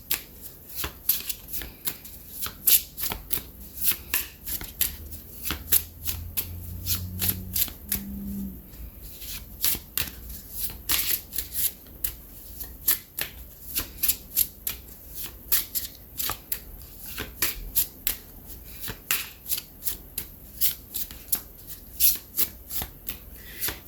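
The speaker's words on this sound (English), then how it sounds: "I'm going to go to this deck next. Let's get a couple of cards here." A deck of cards is shuffled again and again up close, a long run of crisp riffles and snapping flutters in a brisk, uneven rhythm, loud and sharp with no talking.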